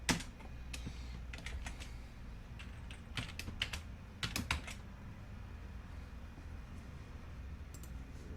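Keys tapped on a computer keyboard to type a folder name, quick clusters of crisp clicks with short pauses between bursts, close and fairly quiet over a faint steady hiss.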